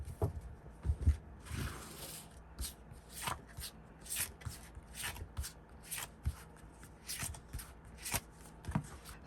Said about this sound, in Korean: 자, 그러면 타로 카드한테 앞으로 두 분의 관계 흐름에 대해서 한번 뽑아보도록 할게요.